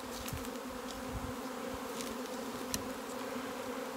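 A honey bee swarm gives a dense, continuous buzz, a steady hum with occasional nearer bees passing close, and no talk.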